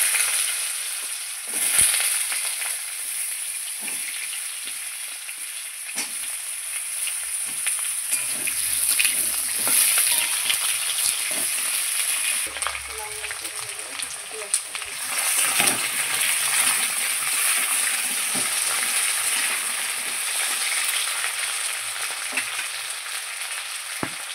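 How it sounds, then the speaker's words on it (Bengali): Cut potatoes frying with dry red chilli, cumin and bay leaf in hot oil in a pan, a steady close sizzle with occasional stirring scrapes and spatters, no talk. "একটু ভেজে নিচ্ছি। এরপর দিয়ে দিচ্ছি কেটে ধুয়ে রাখা আলু।"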